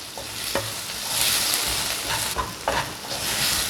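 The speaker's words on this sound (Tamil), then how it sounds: "இப்போ வெங்காயம் தக்காளியெல்லாம் நல்லா வதங்கிடுச்சு" Onions and tomatoes sautéing in a pan, with a continuous close sizzle and bright crackle and a few soft stirring knocks, no voices.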